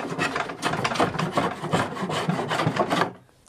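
A rasp or file scrubs saw marks off the edge of a rustic wooden chest in quick back-and-forth strokes, loud and close, before stopping abruptly near the end.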